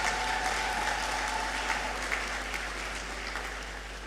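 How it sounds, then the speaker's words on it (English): Graduation ceremony audience in a large hall applauding, a continuous wash of many clapping hands, broad and sustained throughout with a faint low hum beneath. "another round of applause for them as well"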